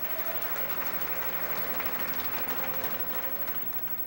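A church congregation applauds in steady, dense clapping that holds at an even level and eases slightly toward the end, heard from within a large room.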